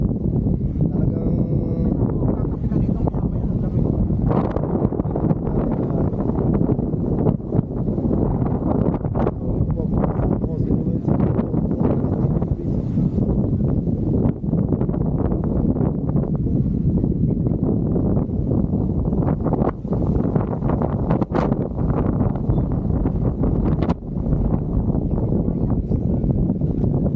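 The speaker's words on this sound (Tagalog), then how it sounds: "ang lakas po ng hangin" Strong wind buffets the microphone outdoors at a scenic viewpoint, a dense, continuous low roar with gusty surges that never lets up.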